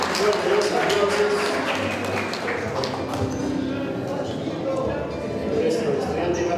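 Steady crowd clapping at a graduation ceremony for motorcycle and vehicle mechanics students, continuous applause with a voice talking over it.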